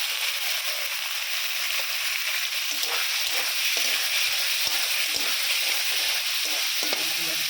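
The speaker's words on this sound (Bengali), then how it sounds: "তারপর সোয়াবিনটা ছেড়ে দেবো" Soybean chunks fry in a pan with tomato and chili, a loud steady sizzle broken by scraping stirs and occasional clicks of a spatula, with no talk.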